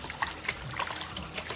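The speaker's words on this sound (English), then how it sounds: "So now we'll just wash with cold water, rinse it very well" Cold tap water runs steadily over raw chicken pieces being rinsed in a bowl for biryani, making a continuous trickling, splashing wash with small irregular spatters.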